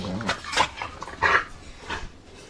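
Search dogs whimper and whine close by outdoors in short, high, breathy bursts, about four of them with brief gaps, alongside faint background noise.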